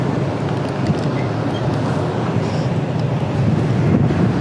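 Strong wind gusts at the seaside buffet the microphone in a continuous, loud low rumble with a broad rushing hiss, steady throughout with no talking.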